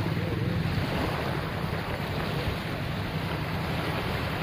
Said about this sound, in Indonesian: menikmati suasana sore dengan deburan ombak